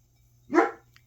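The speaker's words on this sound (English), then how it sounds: "I got barking dogs." A single short dog bark, fairly close and clear, rises out of quiet room hum and fades quickly.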